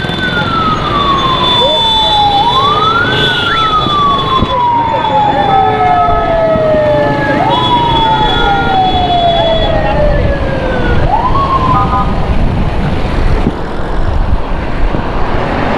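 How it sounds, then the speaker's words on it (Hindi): A wailing ambulance siren rises and falls in long sweeping cycles, loud and steady over constant traffic rumble on Shahrah-e-Faisal in Karachi, with a faint voice in the background. "तो एम्बुलेंस आ गई है भाई।"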